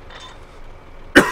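A single short cough bursts out right at the end after near silence.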